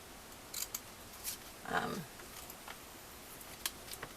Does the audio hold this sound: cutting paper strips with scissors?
yes